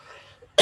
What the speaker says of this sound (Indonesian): Saya batuk ya.